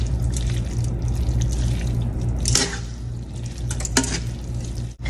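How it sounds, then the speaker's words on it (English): Spaghetti is tossed in sauce in a pan, giving wet sloshing and stirring with a few sharp clinks over a steady low kitchen hum. "Give that a good toss so that you can combine it. Get it all in that sauce really good."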